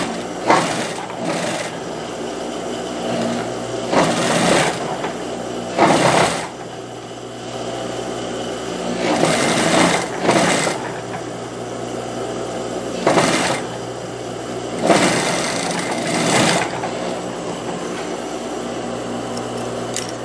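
A sewing machine stitches the armhole seam of a knit-fabric wide-leg jumpsuit in repeated runs of close, steady mechanical buzzing, broken by short pauses and fabric handling.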